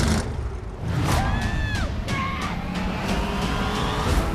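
Station wagon engine from a Ghostbusters film scene, a loud continuous rumble with brief squealing tones and sharp transient bursts throughout.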